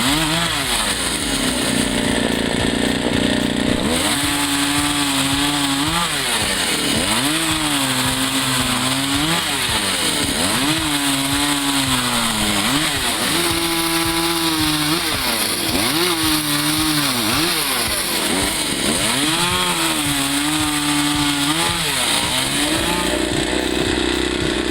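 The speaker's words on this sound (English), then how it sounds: "This guy just MacGyvered himself a log-cutting machine with a chainsaw and some spare parts." A homemade log-cutting machine built from a chainsaw and spare parts cuts firewood, its loud engine revving and bogging in repeated cycles as each cut is made, steady and close throughout.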